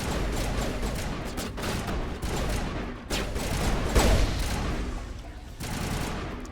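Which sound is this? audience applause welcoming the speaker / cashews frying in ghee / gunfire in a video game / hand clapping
gunfire in a video game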